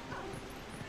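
A dog in the video game Zelda Twilight Princess HD gives short yipping barks, brief and close, over busy game background sound.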